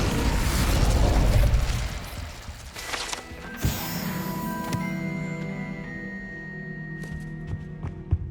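Incendio fire spell cast in the video game Hogwarts Legacy: a loud whooshing burst and crackling blast near the start, followed by ringing magical tones, sustained hum and scattered pops fading over several seconds.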